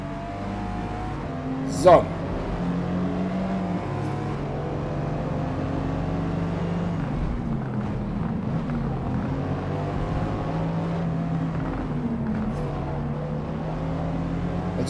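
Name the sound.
race cars in a video game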